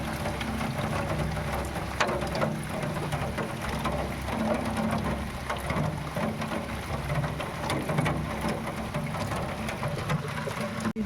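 Steady rain falls outdoors while water drips heavily from a house, making a dense, continuous close patter with no voices.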